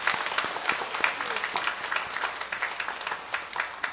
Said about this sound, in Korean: 우리 같이 한번 박수를 칩시다